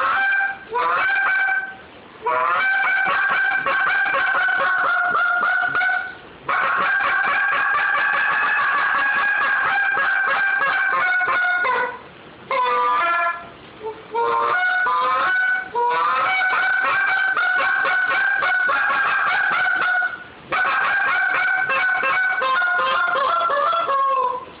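Short breed goose call blown by hand, sounding loud and close in a long run of honks and clucks, broken by brief pauses, with no talk over it.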